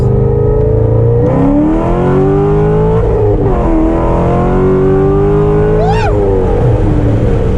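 Chevrolet Corvette with a 6.2-litre LS3 V8 engine revving and pulling away, a loud close engine note rising and falling through several sweeps, with a brief high squeal near the end.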